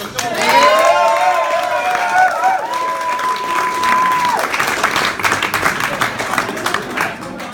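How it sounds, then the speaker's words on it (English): Wedding guests applauding a music group, a dense wash of clapping and cheering that carries on for several seconds; a tonal whistle or voice rises over it early on before fading. "I think we should have another round of applause for the group."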